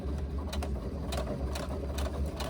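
A sewing machine bastes the side seams of a padded laptop bag, running in short bursts with rapid needle clatter and soft mechanical ticks over a low motor hum, close by and alone.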